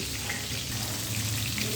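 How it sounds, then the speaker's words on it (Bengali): Pieces of hilsa fish fry in hot oil in a kitchen pan, giving a steady, close, crackling sizzle that holds even and unbroken throughout. "মাছগুলো কিন্তু আমি উল্টে পাল্টে খুব ভালো করে ভেজে নিয়েছি"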